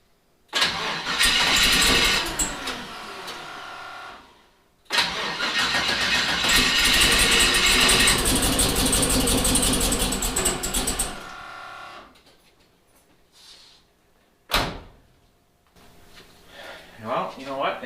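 A twin-turbo LS engine with a suspected injector fault cranks and fires up loudly, running for several seconds, dropping out, then catching again before a second shorter burst and quieter restart attempts.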